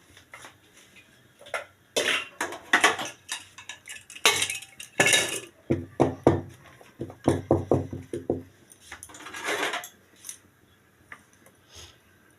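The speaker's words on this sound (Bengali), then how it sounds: "এবার আমি কুকারের মধ্যে বাটিটা বসিয়ে দিচ্ছি" A bowl clinks and knocks against the metal of a pressure cooker as it is set inside, with scattered sharp clatters and scraping taps over several seconds, close and fairly loud.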